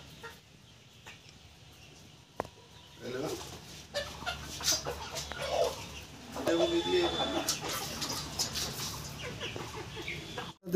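A domestic hen sits in her nest clucking in soft, irregular bursts, close by, with other chicken sounds around and a person talking at times over the calls.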